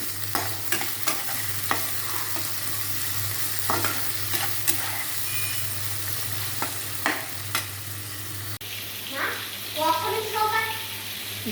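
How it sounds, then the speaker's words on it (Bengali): Shrimp frying in a pan at home, with repeated sharp stirring scrapes and clicks over a steady sizzle, close by; a voice murmurs briefly near the end. "তারপরে চিংড়ি দিয়ে ভাজি করব।"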